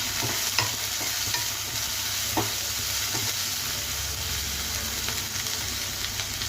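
Rice being stirred with salt in a pan for fenugreek-leaf fried rice, a steady low sizzle under scraping spoon strokes and a few sharp knocks, close and continuous with no talk.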